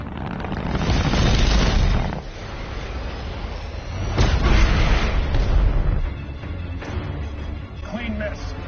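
A torpedo launch and explosions in a space battle scene from The Expanse, heavy booming rumbles swelling twice amid dense low noise, with voices speaking over the din.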